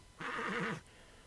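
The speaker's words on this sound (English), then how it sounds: "The horse came to a stop and neighed softly." A pale horse near a Viking-style house gives one soft, short neigh lasting about half a second, with a wavering, whinnying pitch, heard alone against a quiet background.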